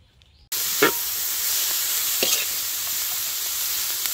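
Onions and chilies hit hot oil for a village-style fish curry, bursting into a loud, steady sizzle that holds without a break, with a couple of brief stirring scrapes near the start.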